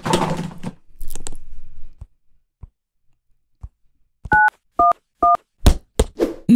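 Telephone keypad dialing tones from an animation: three clear, evenly spaced dual-tone beeps, followed by a few louder clicks and bursts, after speech at the start and some soft ticks.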